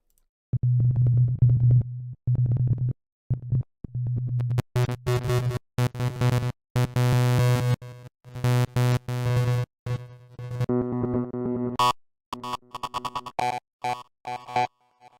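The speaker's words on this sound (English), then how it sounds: "it's like sequenced reversing and delay." Choppy electronic glitch effect made with sequenced reversing and delay in the Phase Plant synth: a low tone stutters and cuts in and out, then dense reversed, repeating bursts with echoing delay tails, loud and rhythmic.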